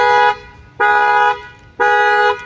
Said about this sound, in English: it's going to trip the factory alarm as well